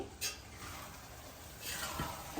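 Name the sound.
stirring flat bean masala curry in pan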